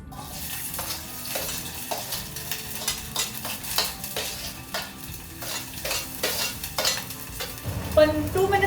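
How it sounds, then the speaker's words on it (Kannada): Capsicum frying in oil in a pan, a steady close sizzle with repeated stirring scrapes and utensil clicks throughout. "ಇವಾಗ ಆಯಿಲ್ ಹಾಕೊಂಡು ಫಸ್ಟು ಕ್ಯಾಪ್ಸಿಕಮ್ ಬೇಯಿಸ್ಕೊಳ್ಳೋಣ."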